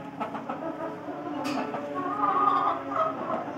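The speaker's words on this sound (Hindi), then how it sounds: "ये मुर्गी बैठी हुई है, मुर्गा सब माशाल्लाह से बड़े हो गए" Aseel chickens and a rooster cluck softly and intermittently in a farm enclosure, a few short throaty calls rising over quiet background noise, with one brief sharper sound midway.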